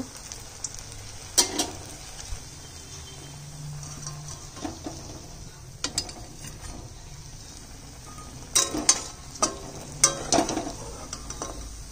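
Banana flower fritters frying in a pan of oil, a low steady sizzle broken by occasional clinks and scrapes of a metal utensil against the pan, close and moderately loud with no one speaking.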